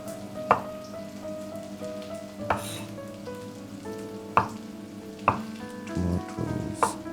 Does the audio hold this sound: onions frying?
yes